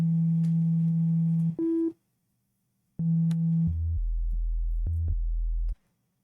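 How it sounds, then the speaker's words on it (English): Analog BD Syn sub bass synth preset playing held tones: a steady low hum, a brief higher blip, a pause, then deeper sustained sub notes and short stabs, loud and clean with no talk. "a good sub preset is the analog BD Syn"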